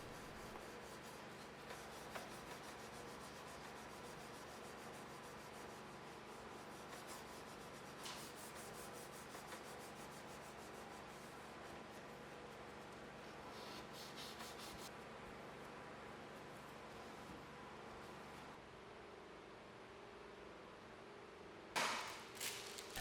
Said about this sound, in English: Now I'll go ahead and get the blade polished. I'm polishing it up to about 800 before etching.